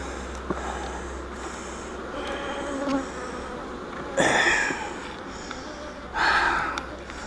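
Honey bees buzz steadily in a mostly emptied hive box full of honey, a continuous droning hum with louder swells from nearby bees.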